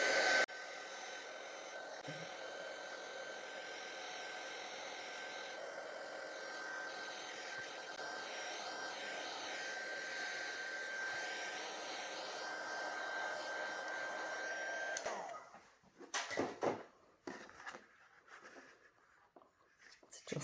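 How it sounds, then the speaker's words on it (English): Heat tool blowing hot air over a stamped ink image, a steady airy whir with a thin tonal whine for about fifteen seconds, then cutting off into quiet rustling handling noises. "I'm going to come in now with my heat tool and just go over the image."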